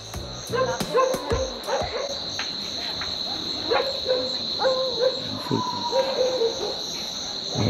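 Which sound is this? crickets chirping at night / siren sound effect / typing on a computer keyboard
crickets chirping at night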